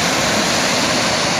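Ice-cold, clear snowmelt water rushes through a mountain stream in the Enipeas Gorge on Mount Olympus. The roar is broad and steady, close and loud, with no voices.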